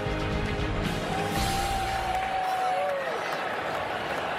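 Stadium crowd at a 2022 NL Wild Card baseball game between the Phillies and Cardinals in St. Louis, a steady, loud roar of cheering with a sliding whistle-like tone rising over it midway.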